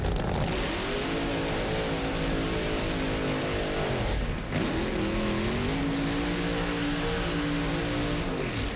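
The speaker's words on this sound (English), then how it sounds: "That's Bobby Martin set to do his burnout." A Charger alcohol funny car roars through its burnout at a drag strip, the engine screaming loud and steady, dipping briefly midway before revving hard again.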